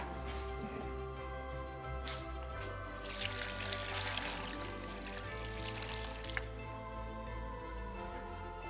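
Water poured into a pot for Jewish-style carp in aspic, seasoned with bay leaves, allspice, cloves and pepper, in a kitchen; a steady, fairly quiet pouring stream runs throughout with a low background hum and no talking.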